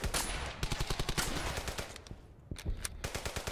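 Rapid bursts of enemy gunfire in Brothers in Arms: Hell's Highway, a rattling string of close shots that dips briefly and then resumes in short volleys.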